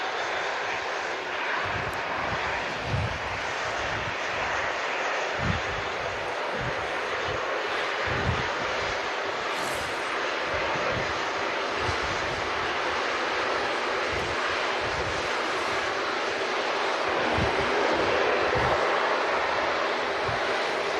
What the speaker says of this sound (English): Virgin Atlantic Airbus A330 taxiing out in front of the Loganair ATR